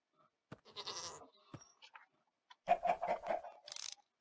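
Minecraft goats bleat in a few short, nasal bursts, with quiet game noises and gaps of silence between the calls.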